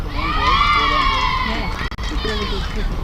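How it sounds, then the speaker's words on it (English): Supporters of the Bauhinia Stars women's cricket team cheer and shout at a Hong Kong premier league match, a lively crowd swell heard alongside a commentator's voice. "Cheers and applause once again from the Bohemia Stars."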